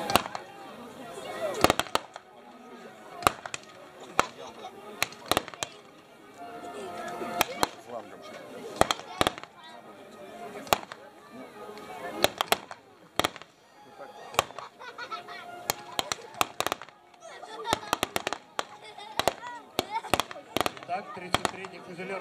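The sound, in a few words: rifle and machine gun fire in a battle reenactment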